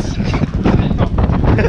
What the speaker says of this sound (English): That fucking wind, man.